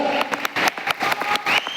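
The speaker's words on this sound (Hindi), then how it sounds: "एक जोरदार ताली इस ग्रेट सक्सेस के लिए" An audience at an achievers training program in Lucknow gives a burst of loud, close applause, fast irregular claps over under two seconds with no speech.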